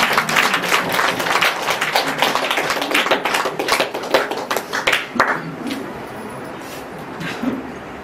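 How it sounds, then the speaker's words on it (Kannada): Audience clapping at a Brahma Kumaris centre inauguration and Raksha Bandhan gathering, a loud, dense burst of applause that thins into scattered claps and fades to room murmur toward the end. "ಮತ್ತೆ ಇನ್ನೊಂದ್ಸಲ ಚಪ್ಪಾಳೆ ಹೊಡಿಬಾರ್ದಾ?"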